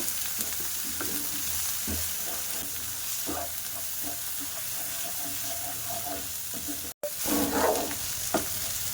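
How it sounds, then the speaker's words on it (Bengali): Chilli, coriander and turmeric powder paste is stir-fried in oil, giving a constant close sizzle with frequent spoon scrapes and knocks, a brief cut near the end, then more vigorous stirring. "তো এগুলো দিয়ে মশলাটা বেশ ভালো করে কষিয়ে নেব।"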